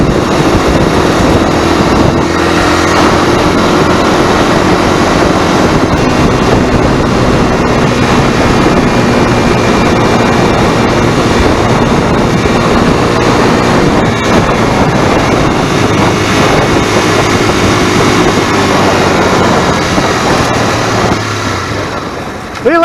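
A Kawasaki NX 250 motorcycle engine cruising at high revs while being ridden, a loud steady droning roar mixed with rushing wind, continuous and close throughout.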